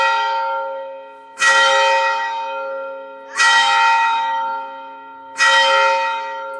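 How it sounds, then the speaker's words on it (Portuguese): A church bell in a historic colonial town strikes the hour, three loud, evenly spaced strokes, each ringing out and slowly decaying before the next. "O sino toca a cada hora cheia."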